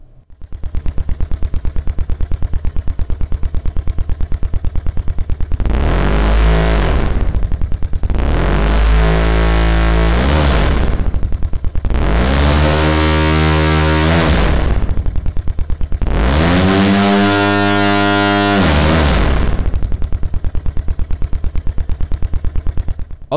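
Simulated car engine from an engine simulator, running in repeated rev sweeps: a rapid, buzzy firing pulse that climbs in pitch and then drops, four times, loud and close with no voices.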